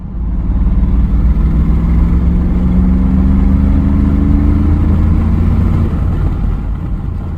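A Mercedes G63 AMG accelerating flat out in fourth gear from about 2,000 RPM: a loud, deep engine roar whose pitch climbs steadily for about six seconds, then eases off, heard close with no talking.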